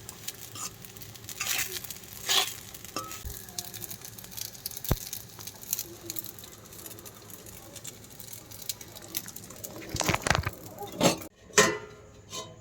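Rice being fried in a pan at home after the carrots have browned, with a quiet steady sizzle under occasional sharper stirring scrapes and clinks.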